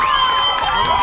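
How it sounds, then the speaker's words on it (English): Crowd at a girls high school soccer game cheering and whooping loudly after a goal, a steady roar of voices with higher shouts rising throughout. "You can hear the crowd."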